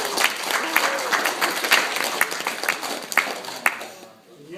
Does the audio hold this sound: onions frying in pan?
no